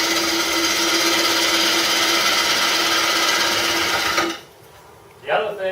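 A wood lathe spins a bowl blank while a gouge slices wood, a steady loud whirring hum with cutting hiss that stops abruptly near the end, followed by a short scrape.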